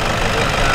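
A car engine idles steadily up close, a dense, even rumble with constant vibration and no change in pace, heard alone without talk.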